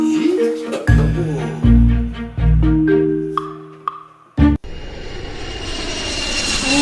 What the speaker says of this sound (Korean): 오, 진짜 비행기.